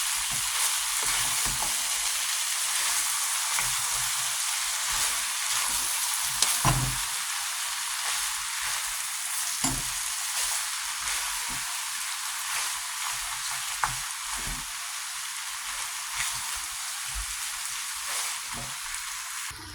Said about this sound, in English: it is to put in the spaghetti into the stew